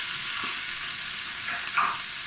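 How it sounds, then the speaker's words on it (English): Tomatoes tossed into hot spiced oil for a chicken jalfrezi give off a steady, loud broadband sizzle, with a few soft stirring scrapes near the end. "So I'm just going to add the tomatoes into those, and then we're going to stir fry those"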